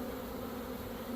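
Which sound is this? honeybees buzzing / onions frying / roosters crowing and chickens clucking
honeybees buzzing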